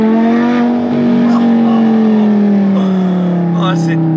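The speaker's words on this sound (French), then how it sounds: "On va faire une petite accélération pour nos amis du resto pour qu'ils entendent un peu le bruit." An Audi R8 V10 engine revs and accelerates right up close, a loud sustained howl whose pitch rises and then eases slightly across the clip, with voices talking over it.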